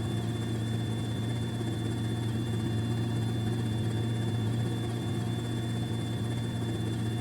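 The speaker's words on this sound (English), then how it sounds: "And here we're flying with the helicopter, right?" A Robinson R44 Raven II helicopter flying in Flight Simulator 2020, a constant droning engine and rotor hum with a steady high whine, unbroken and even throughout with no voices.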